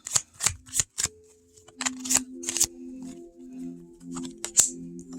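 A Cartes Divinatoires D'Algariel divination deck being shuffled by hand, a run of crisp riffling bursts and soft card slaps at an uneven rhythm, close and clear with no talk.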